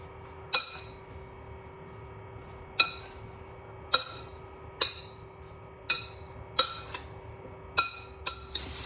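Güveç ingredients with olive oil being mixed in a glass bowl, a series of sharp clinks of a utensil against the bowl at irregular intervals, clear and close with little else around.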